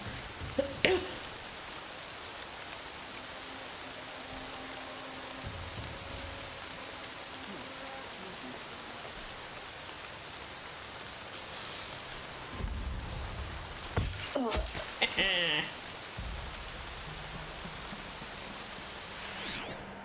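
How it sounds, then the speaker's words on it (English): Steady hiss of rain falling in Horizon Zero Dawn Remastered, fairly soft and continuous, with a few scattered clicks and thuds breaking through now and then. "Of course it's raining."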